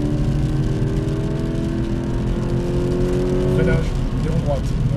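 Toyota GT86 accelerating on the Paul Ricard circuit, heard from inside the cabin as a loud, steady engine drone that climbs in pitch toward the end, with someone talking over it.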